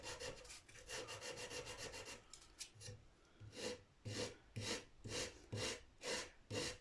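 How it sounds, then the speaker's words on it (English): Sandpaper wrapped around a large wooden dowel rubs back and forth on the wooden headstock of an Orville by Gibson Les Paul guitar under repair, producing rapid rasping strokes at first, then slower, separate, evenly spaced scrapes close by. "I was taking some big wooden dowel, sandpaper, and trying to make this as smooth a transition as possible."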